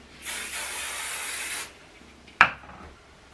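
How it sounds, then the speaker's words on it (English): A single long hiss of a spray bottle misting for over a second, close up, followed by a short sharp click in quiet surroundings. "I'm going to spray the next section."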